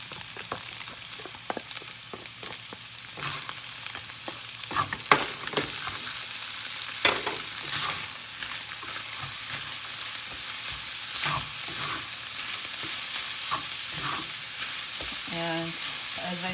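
Onions frying in hot oil with crushed chili for a pot of chili, stirred: a continuous loud sizzle broken by frequent scraping stirs and a few clinks, close up, with no voices.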